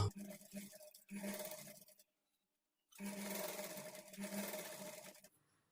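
A sewing machine stitching a lining blouse back panel, running in two steady bursts of motor whir broken by a pause of silence, close and fairly quiet, with no voices.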